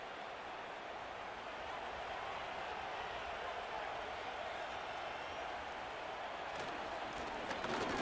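Stadium crowd noise from the Madden 25 football video game during a simulated Cowboys at Bears matchup, a dense, continuous roar holding steady for about eight seconds with no voices standing out.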